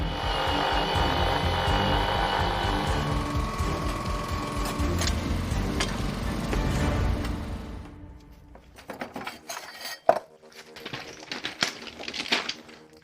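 A loud, steady mechanical grinding and clattering as a 20-ton weld shear cuts excess steel from the top of a rail weld, then it stops and sharp intermittent metallic clanks and knocks follow.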